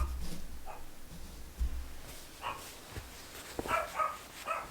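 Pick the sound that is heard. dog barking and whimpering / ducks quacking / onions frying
dog barking and whimpering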